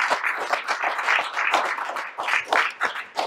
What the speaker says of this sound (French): je vous demande d'applaudir aussi la troupe haïtienne les rescapés qui est là ce soir